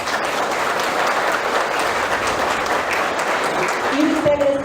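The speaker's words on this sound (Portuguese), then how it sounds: "Aplausos, por favor," Sustained audience applause at a cattle-ranching breakfast event in Brazil, steady and fairly loud throughout, with a voice briefly audible near the end.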